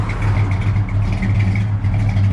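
A 1969 Dodge Coronet 500 with a mostly stock V8 and a bigger cam idles outdoors, a loud, steady low rumble with a slightly lopey pulse that runs unbroken from near the microphone.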